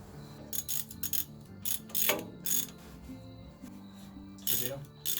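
A ratchet clicks in quick bursts as bolts are tightened on the hydraulics of a Ford 601 Workmaster tractor, with rapid metallic pawl clatter in short spurts over a low steady hum and pauses between runs.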